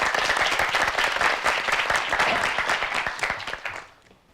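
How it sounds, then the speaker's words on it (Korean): Audience applause at a high school debate competition, dense, close clapping from a crowd that holds steady and then tapers off quickly at the end. "네, 박수로 함께해 주시죠."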